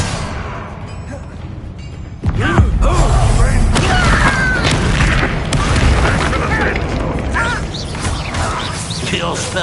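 A Bombarda spell blast in Hogwarts Legacy, a sudden heavy boom after a quieter stretch, followed by a dense rumbling, crackling aftermath with voices over it.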